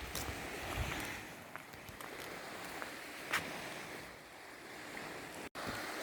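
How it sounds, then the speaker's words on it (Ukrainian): Sea waves wash against a beach in a soft, continuous surf roar with gentle swells and some wind buffeting on the microphone, fairly faint overall. "Ось вам покажу море."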